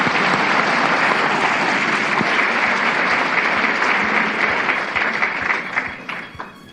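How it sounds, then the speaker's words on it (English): An audience gives a panel a sustained round of applause, dense and even at first, then thinning into scattered claps as it fades out. "So let's give our panel another round of applause"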